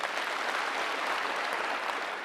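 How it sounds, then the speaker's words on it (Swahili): Sustained applause from a crowd honouring officials at a public gathering in Kenya, a steady dense wash of clapping that fills the whole stretch at even loudness with no voices over it. "pigieni yeye makofi"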